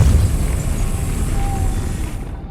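A Depulso force spell fires in the Hogwarts Legacy video game, a loud low rumbling blast that holds steady for a couple of seconds and then cuts off abruptly.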